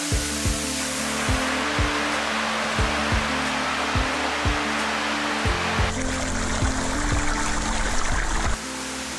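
A waterfall at a tourist site in Biak, Indonesia roars as a steady broadband rush of splashing, trickling water, loud and continuous with no voices.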